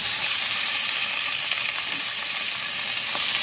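Meat browning in a hot pan ahead of sautéing for sinigang, a steady broadband sizzle and hiss that holds evenly throughout without talk.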